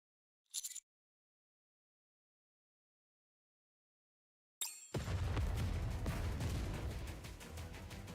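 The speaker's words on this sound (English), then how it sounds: "Commander, explosions up ahead." Video game explosions: a brief sharp burst, then after a pause a loud, sustained rumbling roar of explosions with crackling debris, dense and continuous.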